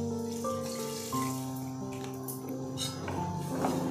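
Rice-washing water is poured into a pot for a sardine curry, making a steady splashing pour that runs beneath background music throughout.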